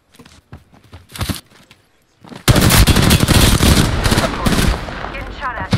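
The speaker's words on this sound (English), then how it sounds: "Getting shot at." Gunfire in the video game Apex Legends: a few sparse shots, then a dense, loud burst of rapid automatic fire sustained for several seconds, close and harsh.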